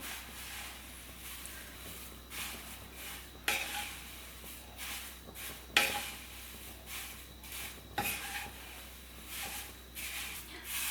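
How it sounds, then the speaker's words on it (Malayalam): Poha (flattened rice) roasting in a pan while stirred by hand for an aval mixture, a soft dry rustle and faint sizzle broken by several sharp scrapes and clinks against the pan, with no talk. "ഞാൻ എളുപ്പത്തിന് വേണ്ടിയിട്ടാണ് കൈ വെച്ച് ഇളക്കണത് കേട്ടോ, പക്ഷെ ശ്രദ്ധിച്ച് ഇളക്കിയില്ലെങ്കിൽ കൈ പൊള്ളും"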